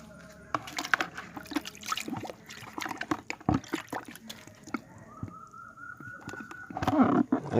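A submersible water pump is cleaned by hand in a small bucket of water, with irregular close sloshing, splashing and knocking, followed by a brief steady hum near the end.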